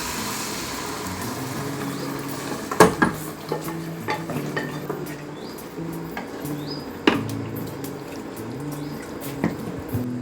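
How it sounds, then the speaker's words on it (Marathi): Cooked moth beans (matki) tipped into a pot of fried masala for misal, with a couple of sharp clanks of a spoon against the pot over a soft, wet stirring and scraping background. "आता आपण त्याच्यात ही मटकी शिजून घेतलेली ना ते आपण टाकून घेऊ"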